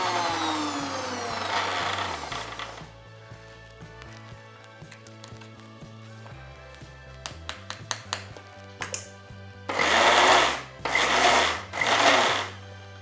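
A kitchen mixer grinder coarsely grinds cinnamon bark and curry leaves in short bursts, loud whirring pulses separated by pauses, with rattling of the spices in the jar, ending in several strong close-up runs.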